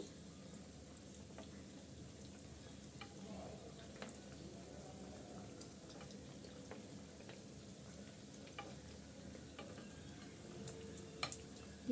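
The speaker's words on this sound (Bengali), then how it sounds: "আমি গোল্ডেন করে সব চপগুলি ভেজে নিচ্ছি" Vegetable chops fry in oil in a home kitchen, a faint, steady low sizzle with scattered small crackles and light ticks throughout, distant and without talk.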